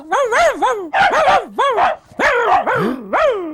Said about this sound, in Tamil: ரெண்டு நாய் சண்டை போடுற சட்டம் கேக்குது